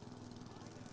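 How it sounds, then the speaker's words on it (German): Riding lawn mower engine in the video game Bully, a steady droning motor hum running continuously at close range with a faint rhythmic flutter. "Ich fahre mit dem Rasenmäher, Mann."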